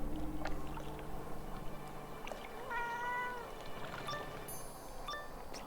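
Cat meows from the video game Wizard101: a few short, tonal mews in the middle and near the end, set over a steady hiss of game ambience.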